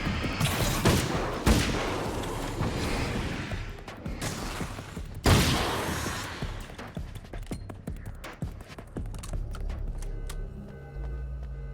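Rifle shots from the video game Alan Wake's American Nightmare: a series of loud, sharp reports with heavy bangs near the start and middle, then trailing off into scattered quieter pops and echoes.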